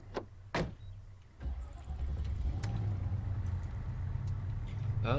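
A Land Rover medic truck drives in the military video game Arma 3. A few faint clicks come first, then a low engine rumble sets in and runs steadily at moderate volume.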